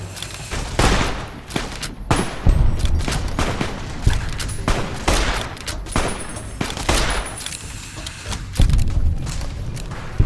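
Enemy gunfire in Fallout New Vegas rings out as a rapid, irregular barrage of loud shots and booming impacts, bursts overlapping and clustering with brief gaps between volleys.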